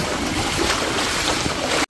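Fast-flowing floodwater surges across a flooded road during monsoon rain, a loud, steady, dense rushing roar that holds without pause and cuts off abruptly at the end.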